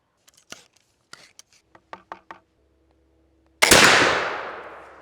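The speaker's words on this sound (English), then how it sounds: "I'm taking these shots at a little bit of a longer distance than you saw with the pistol video" A Kibler Southern Mountain flintlock rifle is fired outdoors on an autumn woodswalk. A few small, close mechanical clicks come first, then a single loud, sharp shot that rolls off into a fading echo.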